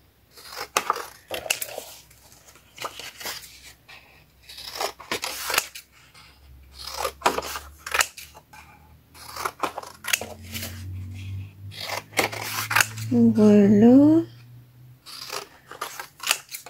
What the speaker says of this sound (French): je viens de découper comme ça, en ciseaux.